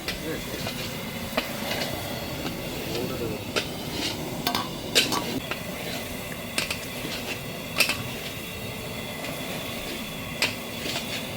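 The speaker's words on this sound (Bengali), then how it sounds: "আলুটা নাড়লে না ভাজা হবে না সিদ্ধ হবে না।" Potatoes sizzle in a pan as a utensil stirs and scrapes intermittently, with occasional knocks against the pot and faint background noise.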